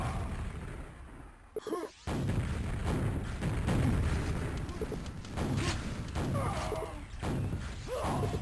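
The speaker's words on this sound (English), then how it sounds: "Rockets coming in everywhere." Rockets firing and exploding during a competitive Quake-style arena match, loud continuous booms and blasts layered densely with gunfire, no talk.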